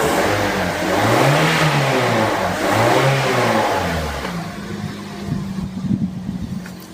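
Car engine revving as the accelerator is pressed during an engine condition check, two strong swelling revs that fall back before settling into a rougher idle.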